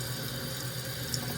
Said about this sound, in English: as we watch this water fill up back in the tank